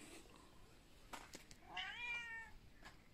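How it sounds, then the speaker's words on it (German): A tomcat wails and meows drawn-out and faintly at a distance, a single rising and falling cry after a few soft knocks, with no talk over it. "Das ist ein Kater, der am Jammern ist."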